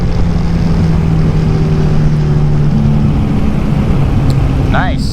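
Steady engine drone from a Royal Enfield Shotgun 650 or Hunter 350 motorcycle held in fourth gear on a 0-60 run, a constant hum with wind noise and a brief spoken word near the end.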